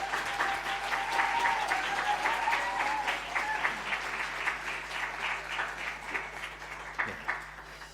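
A church congregation applauds together, a full rhythmic wave of clapping that starts strong and gradually thins out near the end, with faint voices in the background.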